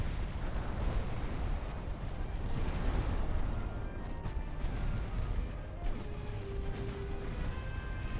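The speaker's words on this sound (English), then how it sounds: "Primary guns, I want you shooting at that battleship if you can." Battleship primary guns fire in Ultimate Admiral: Dreadnoughts, heavy booming shots rolling over a dense, continuous low rumble of naval battle, loud and sustained with occasional sharper cracks and faint tonal whines.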